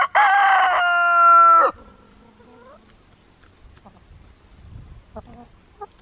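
A rooster crows loudly and close among chickens in a North Idaho farmyard during a solar eclipse, one long harmonic call trailing off, followed by quiet soft clucks and faint scratching.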